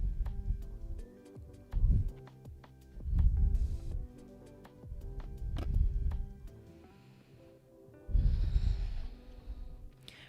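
Someone holding a yoga pose during a vinyasa flow takes slow, audible breaths close to the mic, with about five loud inhale-exhale swells spaced evenly, a quiet pause between each.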